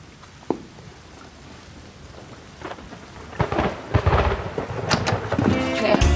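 A steady rain patters on surfaces throughout while thunder rumbles and cracks, building louder and closer in the second half with several sharp booms.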